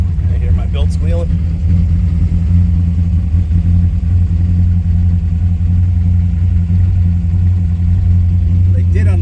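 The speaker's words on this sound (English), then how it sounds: "I hear my belt squealing." A classic car engine idles with a squealing drive belt, a loud, steady, close rumble that runs unbroken throughout.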